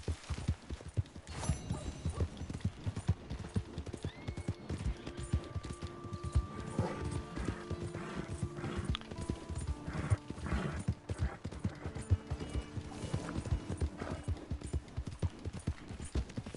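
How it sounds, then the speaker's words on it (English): Steady clip-clopping video game horse hooves trot on and on at a brisk, even pace, moderately close, with faint ambient sounds underneath and no talking. "Hey, my horse!"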